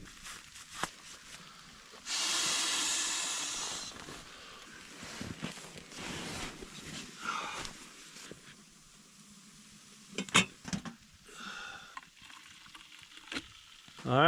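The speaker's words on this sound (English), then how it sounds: "we're gonna see what this blizzard brings because I can hear it snowing really hard right now" Heavy snow of a blizzard pelting a tent during winter camping, a steady broadband hiss that swells into a loud rushing burst, then settles into softer patter with occasional rustles and thumps nearby.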